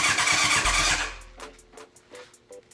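A 1988 Yamaha FZ750 motorcycle under rebuild, its engine roaring briefly before cutting out, followed by a few faint, evenly spaced mechanical clicks or turns of the engine without it catching.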